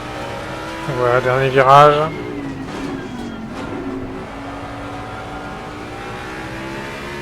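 A race car engine in Assetto Corsa Competizione climbs through a brief rising rev, then settles into a steady lower drone. Someone talks in French over it.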